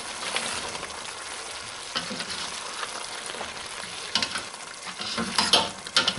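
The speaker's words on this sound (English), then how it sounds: "So give that a good stir." Spicy potato curry (aloo sabzi) stirred in a pan, with a soft sizzle and a spoon scraping and scuffing in irregular strokes, close and moderately quiet.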